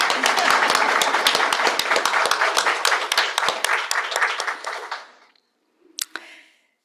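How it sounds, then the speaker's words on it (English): A seated audience applauds at a university honors convocation, dense sustained clapping for about five seconds that fades out, followed by a brief sharp burst of a few claps near the end. "but we'll just clap."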